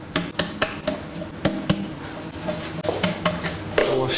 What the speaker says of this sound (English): give it a little tap